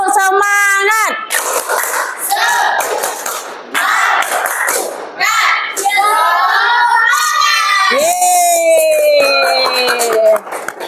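Schoolchildren in a classroom chant loudly in unison while clapping in rhythm for a spirit clap before going home, with high, shouted voices in bursts over the claps.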